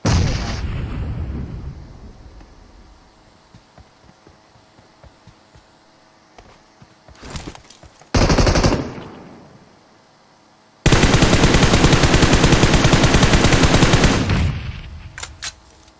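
Bursts of loud gunfire and blasts erupt in PUBG Mobile, with a sparse scattering of single shots between heavy sustained volleys.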